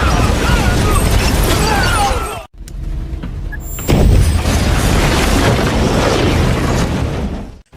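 Loud, rumbling booms from traps and landmines exploding on Chinese troops in a war film, dense sustained blasts with a brief dropout and another heavy burst midway.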